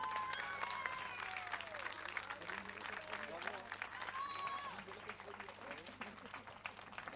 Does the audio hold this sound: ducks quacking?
no